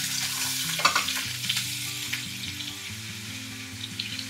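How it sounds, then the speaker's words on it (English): Lamb shoulder, salted and rubbed, sears in a hot pan with a steady, close sizzle and crackle, with a few sharper pops along the way and no voices. "Whilst our lamb is searing off to get golden"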